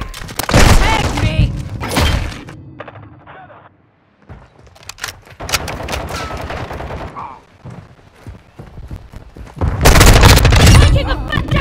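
Gunfire in the Call of Duty: Modern Warfare video game comes in loud, dense automatic bursts separated by short gaps, with voices heard at times among the shots.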